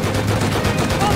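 Rapid gunfire in the video game Rust, aimed at a minicopter, dense and continuous across the whole moment with no clear gaps between shots.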